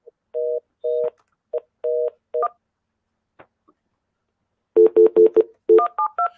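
Telephone keypad dialing tones beep in quick bursts as a lost conference call line is reconnected, two clear runs of paired-tone presses separated by a short quiet gap, loud and alone.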